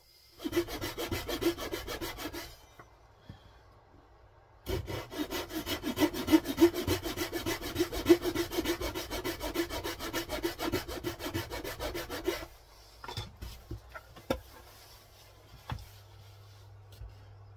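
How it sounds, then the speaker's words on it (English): A Japanese hand saw cuts into the wood of a Strat-style guitar body during belly and arm carving in a small workshop. Steady rhythmic rasping strokes run close and loud, pause briefly, resume, then give way to scattered knocks and scrapes. "that is all my saw marks made with the Japanese saw there, belly carve and arm carve"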